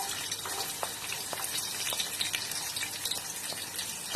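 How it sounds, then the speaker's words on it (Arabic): Onion and garlic slices dropped into hot oil for a Syrian chicken kabsa, frying with a steady, moderately quiet hiss flecked with small crackles and pops, close by and without talk. "وهلا بعد ما حمي الزيت هنزل البصل وشرائح الثوم"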